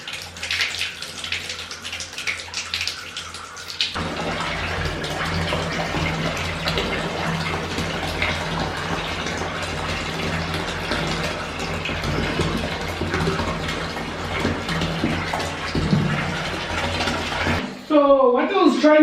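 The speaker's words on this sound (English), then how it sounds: "you need to open the water" Water runs from a tap into a bathtub, a steady rushing gush that fills most of the stretch after a short lead-in, with a faint hum underneath and brief talk at the end.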